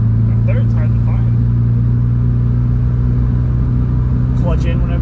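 A Subaru WRX with a manual gearbox pulls away in second gear, its steady engine drone and low rumble running continuously beneath a person talking throughout.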